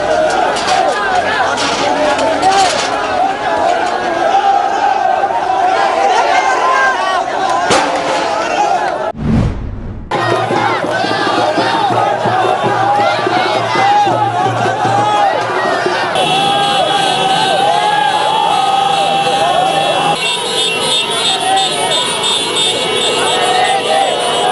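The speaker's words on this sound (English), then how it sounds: "crowd attempted to topple over the barricades last night." Protest crowd pressing against barricades opposite a president's office at night, a dense roar of many voices with shouts and chatter throughout, a brief thud partway, loud and continuous.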